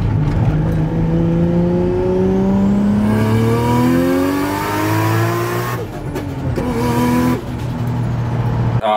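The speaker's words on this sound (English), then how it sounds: "this is my 1997 Nissan Stagea" A 1997 Nissan Stagea R34 wagon, a heavily modified 313 kW build, revs hard and loud up close, its engine note rising and falling through repeated climbs with brief dips between, and no talking.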